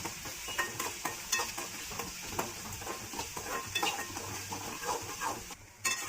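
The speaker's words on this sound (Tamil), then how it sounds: "இப்போ வெங்காயம் நல்லா பொன்னிறமாக வதங்கணும்" Onions and green chillies with salt sauté in a pan for a banana stem stir-fry, a steady close sizzle broken by frequent scraping and clinking of a stirring utensil.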